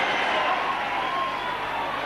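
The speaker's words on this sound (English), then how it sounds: "Well, that's something for the Leeds fans to cheer about there." Leeds rugby league fans cheering a try, a steady, distant crowd roar that holds at an even level for the whole stretch, with no single voice standing out.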